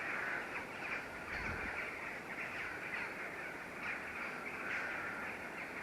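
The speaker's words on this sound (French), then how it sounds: "il y a beaucoup de corbeaux là" Crows caw several times near a pond with ducks in a garden, faint and somewhat distant against a steady outdoor hiss, with no talking.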